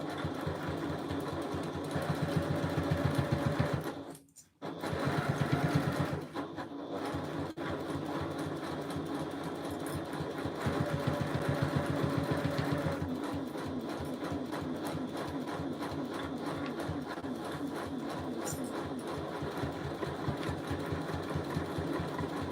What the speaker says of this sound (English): I'm following that same line of stitching that I already did, just to secure the lining to the exterior fabric.